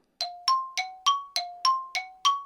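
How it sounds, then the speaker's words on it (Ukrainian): A phone ringtone plays as eight evenly spaced bright chiming tones about a third of a second apart, alternating between two pitches, loud and close with no voices. "знімаю на телефон і тут той дзвонить"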